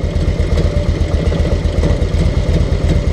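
A Harley-Davidson V-twin engine idles close up under a fan-cooling setup, a loud, steady, lumpy low rumble with even pulses throughout and no voices.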